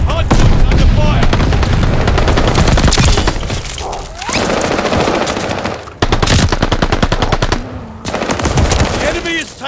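Dense, loud automatic gunfire in Call of Duty: Vanguard during a hardpoint match, with rapid machine-gun bursts almost nonstop, a couple of brief pauses, and faint game voices beneath the shooting.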